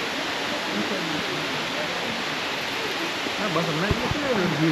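Abbey Falls, a waterfall in dense Coorg forest, gives a broad continuous roar of rushing water, steady and enveloping, while people talk faintly underneath.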